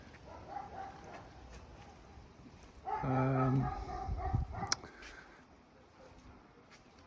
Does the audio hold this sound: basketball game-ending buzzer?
no